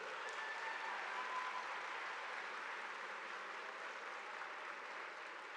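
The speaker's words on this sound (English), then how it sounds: "So let's give them a round of applause for that" A high school graduation audience applauds the teachers and staff, an even wash of crowd clapping heard from a distance that holds steady and fades slightly at the end.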